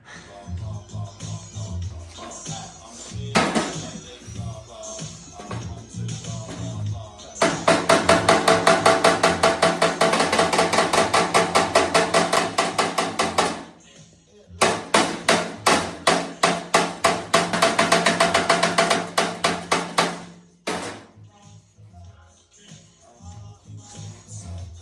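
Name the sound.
hammer and dolly shaping car body panel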